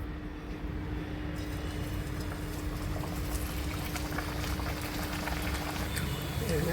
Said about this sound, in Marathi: आता त्यांना एक एक करून आपण तळूया।